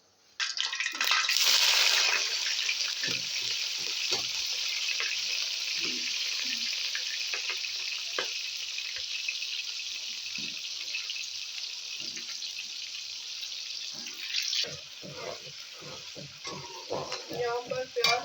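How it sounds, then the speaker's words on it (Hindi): Onions sizzle loudly as they drop into hot ghee for beef pulao, a bright burst of frying that settles into a steady crackle with occasional stirring clatter and scraping. "अब हम इसमें प्याज डाल देते हैं और ब्राउन कर लेते हैं।"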